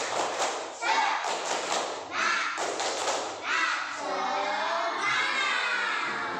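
Children in a classroom doing the tepuk semangat spirit clap, rhythmic bursts of clapping and thumps mixed with shouted chanting voices, ending in a sustained loud group cheer.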